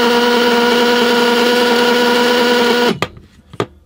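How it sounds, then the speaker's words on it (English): Brushless motor running on a controller at low speed under high current draw, a loud steady whine with strong tonal hum that cuts off abruptly near the end, followed by a couple of sharp knocks. "So the motor runs low and the current is very high, almost 8 amp."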